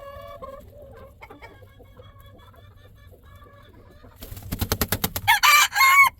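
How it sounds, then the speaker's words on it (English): Chickens cluck softly in a coop, a few quiet scattered calls at first, then a rooster crows loudly and close near the end. "Call you Coopers because y'all just want to hang in the coop"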